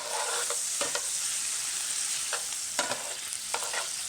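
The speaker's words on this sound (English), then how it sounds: "I'm going to get this tossed." Vegan shrimp frying in a pan on lowered heat, a constant close sizzle broken by several short scraping stirs and tosses, with no one talking.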